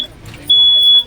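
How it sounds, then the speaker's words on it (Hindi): A train's fire alarm sounds a shrill, steady high-pitched electronic tone for about half a second, loud and close, amid cabin noise. "कोई शायद स्मोकिंग कर रहा था ट्रेन में, इस वजह से फायर अलार्म जो है वो बज गया था ट्रेन में"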